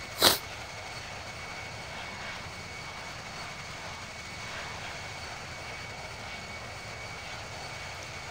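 A simulated airliner in Infinite Flight cruises over the Himalayas with a steady, even engine drone, opening with a short sharp click.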